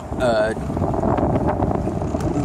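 Wind blowing across a sailboat out on the water, heard as loud, steady buffeting roar on the microphone, with a brief whining tone near the start.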